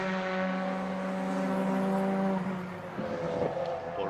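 A touring race car, a Peugeot or Cupra Leon, drones with a steady engine hum on a circuit, then the tone shifts and fades slightly as it passes, with no voices heard.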